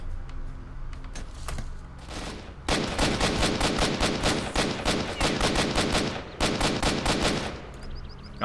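Bursts of rapid automatic gunfire in S.T.A.L.K.E.R. Shadow of Chernobyl, loud and close, starting after a quieter opening, pausing briefly and then resuming, with a faint click at the end.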